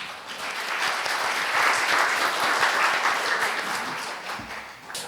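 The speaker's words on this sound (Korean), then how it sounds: "여러분 환영의 박수로 맞이해 주시기 바랍니다." Dense, steady audience applause fills a conference hall at a Korean IT monitoring event as a CTO is welcomed to the stage, holding loud and even throughout before easing slightly at the end.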